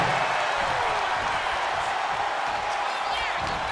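Dense, steady roar of an arena crowd in a WWE 2K26 wrestling match inside a Hell in a Cell bout, continuous and loud with no break.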